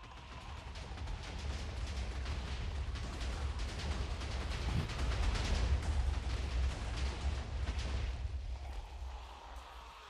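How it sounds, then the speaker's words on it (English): Distant explosions rumble and boom in a post-apocalyptic city survival game, forming a low, continuous thunderous roll with scattered crackling bursts that swells and then fades. "Moments later, we hear explosions coming from the distance."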